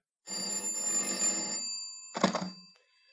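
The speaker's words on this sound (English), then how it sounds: "Telephone rang once again." A telephone bell sound effect in an old detective radio drama, one long ring that stops, then a shorter ring burst, fairly faint and alone.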